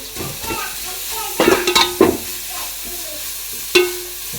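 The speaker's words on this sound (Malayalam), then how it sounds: "ഒക്കെ അങ്ങോട്ട് ഇട്ട് കൊടുത്തിട്ട് ഒന്ന് ജസ്റ്റ് വഴറ്റി കൊടുക്കുകയാണേ" Chopped cabbage, capsicum and carrot sautéing in a pan, a low sizzle broken by a few sharp scrapes and clatters of a spatula against the pan, close and moderately loud.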